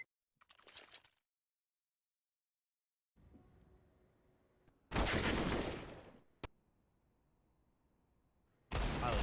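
Gunfire from a Counter-Strike esports match, sniper rifle in play: loud bursts of shots separated by quieter stretches of room noise, with a single sharp crack in between.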